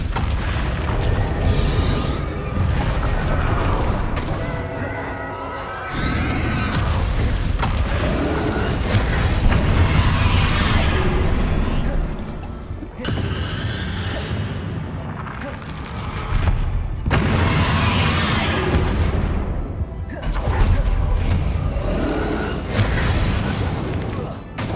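Repeated spell blasts from Bombarda and Confringo in the game Hogwarts Legacy, loud booming explosions arriving one after another with rumbling bursts and combat noise, continuing over roughly twenty-five seconds.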